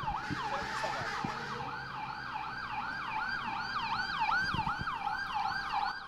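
SAMU advanced-support ambulance siren arriving at an emergency room in Brazil, a loud wailing yelp that repeats in quick regular sweeps over low road and engine noise, sounding fairly close.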